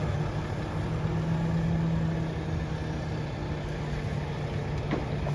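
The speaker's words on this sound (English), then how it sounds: "I'll just show you a bit of the chipper going in action" A big wood chipper driven by a Valtra S-series tractor runs steadily, a constant loud mechanical drone with a low hum that holds unchanged throughout, no voices.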